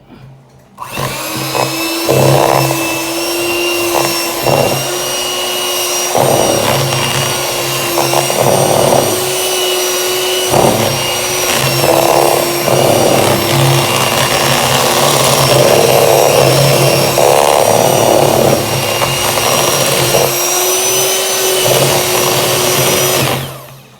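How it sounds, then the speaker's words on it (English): An electric handheld mixer whirs continuously through coconut milk for vegan taffy apples, a loud close motor whine with steady pitch and slight surges as the beaters move. "Now I have my handheld mixer, and I'm going to mix it up a little bit."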